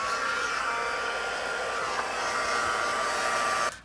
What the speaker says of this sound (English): I'm going to be using my heat tool to speed up the drying process.